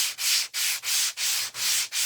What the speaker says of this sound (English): So I always sand everything.